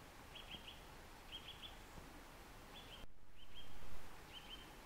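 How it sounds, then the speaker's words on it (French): Small birds sing outdoors on a frozen winter hike, sending short high chirping phrases in scattered bursts against quiet open air, with a brief rustle of movement near the end. "Et les petits oiseaux qui chantent, écoutez."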